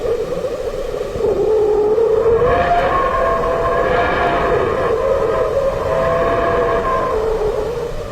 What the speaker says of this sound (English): That was the sound of plasma within the solar wind from the Sun.